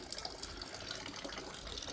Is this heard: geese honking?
no